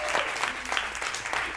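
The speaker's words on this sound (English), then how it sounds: "Let's give them a round of applause." A crowd at a comedy charity benefit gives a round of applause, dense and loud, with continuous clapping that carries through the short burst.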